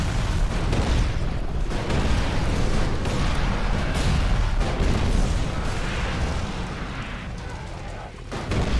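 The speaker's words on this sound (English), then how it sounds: "Somebody's shooting missiles." Dense, continuous rumbling barrage of missiles firing and exploding in ELEX II, booms overlapping into a steady roar with a slight dip near the end.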